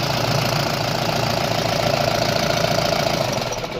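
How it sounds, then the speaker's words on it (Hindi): Mahindra Bolero diesel engine, just serviced after a starting fault and engine cleaning, runs at a loud steady idle with a rough knocking rattle, close by and alone. "तो देख पा रहे एकदम हाथ से में गाड़ी स्टार्ट हो रहा है"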